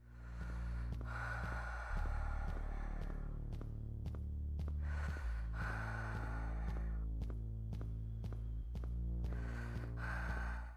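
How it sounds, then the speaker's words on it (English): Heavy breathing effect from a first-person shooter game: slow, steady cycles of loud, close breaths, each inhale and exhale rising and falling over a low, droning pulse. "the auditory representations were created to mimic human breathing"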